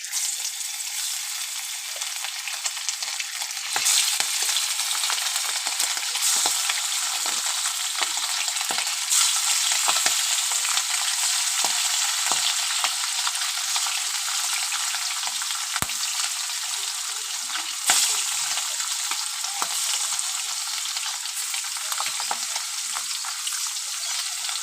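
Small puti fish coated in salt and turmeric fry in hot oil, giving a steady, close hiss and sizzle with scattered pops and crackles throughout and no talking.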